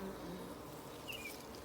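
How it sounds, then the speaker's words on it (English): Dark Carniolan honey bees buzz softly nearby, a faint steady drone with a brief brighter whine as one passes close, no voices present. "I love these bees"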